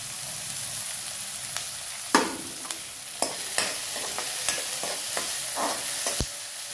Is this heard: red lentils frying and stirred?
yes